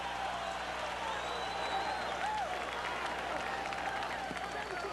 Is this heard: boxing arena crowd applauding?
yes